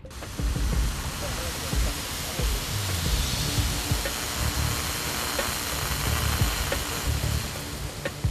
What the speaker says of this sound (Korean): 다행히 물은 정확히 분사되기 시작했다.